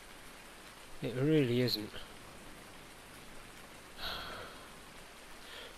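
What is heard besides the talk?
rain falling through leaky roof in a video game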